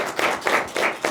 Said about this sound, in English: a round of applause for our panelists here